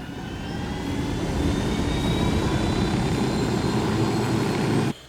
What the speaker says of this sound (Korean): 트럭 말고 그냥 헬기 타고 가겠습니다.